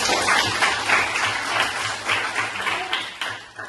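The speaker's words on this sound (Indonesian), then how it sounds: "tepuk tangan untuk kalian" Students applauding in a classroom after a maths lesson, a dense steady patter of many hands clapping close by, continuing throughout without talk.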